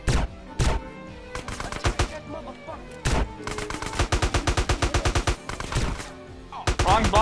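Shotgun blasts in GTA: San Andreas, a fast run of loud, sharp booms in uneven bursts with short gaps, repeated shots clustering near the end, no talking.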